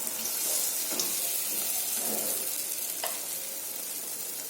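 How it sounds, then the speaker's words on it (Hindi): Ripe banana pakoras fry in hot oil with a steady, soft sizzle, close and continuous, with a few faint clinks of a utensil. "इस तरह से 2-3 और बैच में सारे पकौड़े को मैं तल लेती हूँ।"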